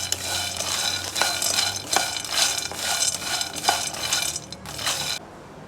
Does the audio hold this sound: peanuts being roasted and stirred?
yes